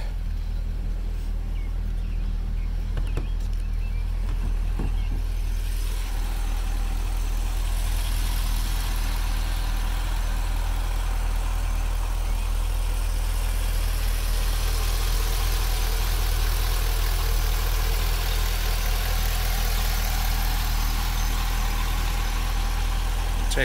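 A 2008 Chevrolet Corvette sits idling, its steady engine hum running continuously and evenly at close range with no speech over it.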